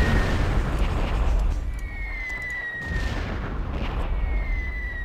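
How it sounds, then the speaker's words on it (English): Artillery fire in the strategy war game Supreme Ruler Ultimate rolls as a dense, continuous low rumble of distant blasts, with a thin whistling tone sliding across it midway. "Too much artillery."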